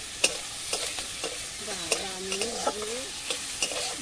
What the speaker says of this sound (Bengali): পেঁয়াজটাকে ভালোভাবে ভেজে নেব।